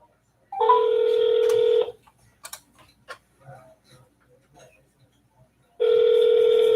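A telephone dialing a number for sales prospecting calls: brief stepped beeps, then two long, loud, steady ringing tones separated by a few seconds of quiet clicks and faint background noise.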